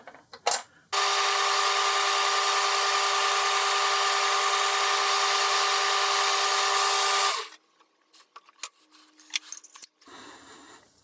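A power tool polishes a steel Morse taper on a lathe, a steady high whine running about six seconds, framed by brief clunks and handling noises.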